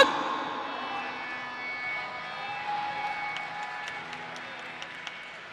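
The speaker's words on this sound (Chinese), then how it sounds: "掌声送给代表个人出赛的蔡宗辰" A crowd at an amateur MMA event applauds as a fighter is introduced, a broad, steady wash of clapping and cheering that slowly fades, with faint tones and sharp clicks near the end.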